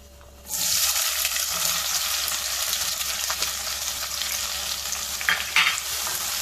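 Four medium onions dropped into hot oil with roasted whole spices for Sindhi mutton curry, bursting into a loud, sustained close sizzle after a quieter start, with occasional stirring clatter.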